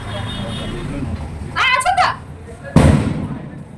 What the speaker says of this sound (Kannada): ಮೇಘ ಪಾಪ ಪಟಾಕಿ ಬೇಡ ಬೇಡ ಅಂತೇಳಿ ಇವನ್ ಮಾತ್ರ ಪಟಾಕಿ ಹಚ್ಚ ಮಜಾ ಮಾಡ್ತಾನೆ.